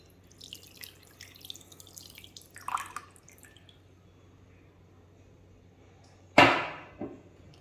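Water is poured from a glass onto chicken pieces to make a brine, heard as a short splashing pour after quieter kitchen clatter, with a trailing drip.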